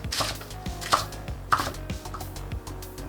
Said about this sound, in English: Slice it in half again, and we're gonna chop it a bite size.